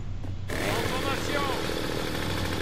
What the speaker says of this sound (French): Tronçonneuse activée.